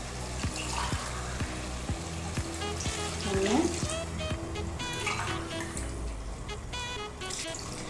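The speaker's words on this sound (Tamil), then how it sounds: "நான் 3 கப்பு தண்ணி ஊற்ற போகிறேன்" Water pours into a hot pressure cooker while chicken biryani with basmati rice is being made at home, a steady sizzle and splash running throughout, with a voice speaking briefly.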